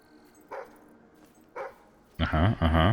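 A dog barking in the video game Fable III: two soft, distant single yips, then a louder, closer burst of several quick barks.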